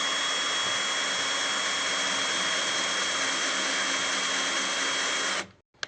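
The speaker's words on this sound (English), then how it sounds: "you just kind of let the drill carry itself, because if you pull too much, you'll mess up the threads." A power drill taps threads into PVC with a loud, steady whine that runs unbroken for over five seconds, then cuts off abruptly.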